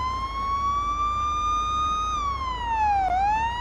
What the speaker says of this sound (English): It's like a short clip of a siren that keeps replaying.